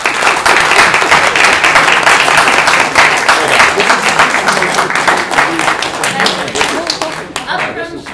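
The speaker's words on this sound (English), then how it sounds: "I guess a round of applause to side proposition for winning this debate." Audience applause for the winning proposition side at the close of a debate, loud continuous clapping from a crowd that tapers off near the end, with some voices mixed in.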